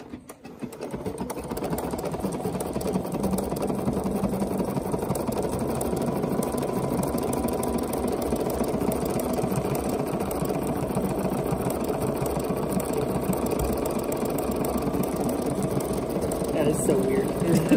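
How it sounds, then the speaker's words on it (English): A Bernina sewing machine stitches steadily at close range with a constant mechanical whir, running without pause, while someone talks over it. "So I'll stitch it that way."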